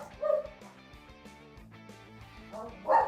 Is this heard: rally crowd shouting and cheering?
no